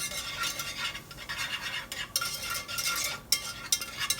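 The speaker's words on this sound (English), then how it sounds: "stir, and we're just going to let this saute down for just a couple of minutes" Onion and garlic sautéing in a pan while being stirred, giving a soft steady sizzle with occasional sharper utensil scrapes, close by and fairly quiet.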